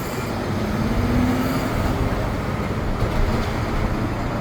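Riding aboard an elevated sky train, a steady, loud rail rumble and rolling wheel noise carry on without break, with no voices.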